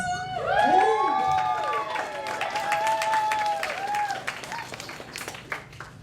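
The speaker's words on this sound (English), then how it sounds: "I'm glad that you're settling into rounds of clapping" An audience at a 2009 Serpentine poetry marathon claps in steady rounds beneath a voice speaking over a microphone, holding fairly full throughout with a few scattered claps near the end.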